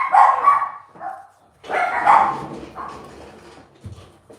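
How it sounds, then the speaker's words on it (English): Several dogs bark in a few loud bursts with a pause between them, fairly close, and a fainter yip trails off at the end. "See? Even the dogs are barking at them now."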